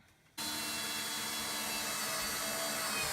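A power driver sinks 1 3/4 inch screws into the edge of a plywood seed-starting table, a steady close whirring drone that starts abruptly and runs without a break.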